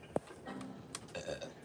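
A video game character's burp: a short, sharp pop followed by a gurgling, tonal belch-like sound, quiet and alone, lasting about a second.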